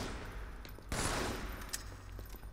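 Halo 2 weapon fire in a slow double-shot combo: a burst of loud gunfire, then a sharp blast, a short pause and a final crack over steady game noise and music.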